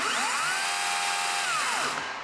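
Makita cordless chainsaw running in boost mode, a loud high-pitched motor whine that rises, holds steady, then winds down near the end.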